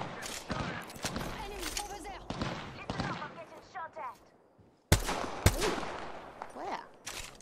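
Gunfire in the battle royale game Apex Legends comes as scattered bursts of shots and impacts with a brief lull midway, mixed with game effects.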